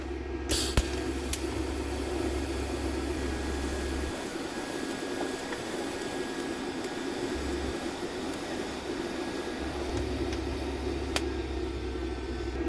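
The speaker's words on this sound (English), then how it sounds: "So I welded these pieces together" TIG welding metal pieces together for the pouring shank of a huge crucible, a steady close buzzing hiss with a low hum that runs unbroken throughout, with no talking.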